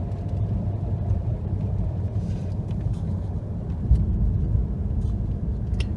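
A Mazda CX-30 drives on a snowy road, heard from inside the cabin as a steady low rumble of tire and road noise with engine hum and a few faint ticks, with no talking.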